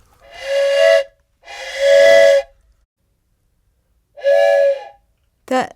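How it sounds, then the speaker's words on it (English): Four buzzy, reedy notes played alone on a racket, a Renaissance double-reed instrument, with short pauses between them, the last one very brief and bending sharply in pitch. "one is called the racket"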